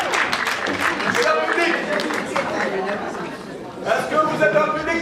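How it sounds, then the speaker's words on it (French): A school slam-poetry audience fills the room with a dense crowd murmur and scattered clapping that swells into louder applause toward the end, voices chattering throughout. "Je vous demande de les applaudir, s'il vous plaît."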